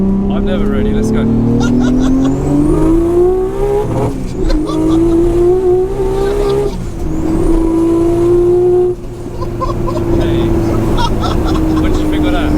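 A Nissan R34 GT-R on high boost revs hard and angrily, its engine note climbing repeatedly through loud, close acceleration runs with brief dips between pulls, while people talk over it.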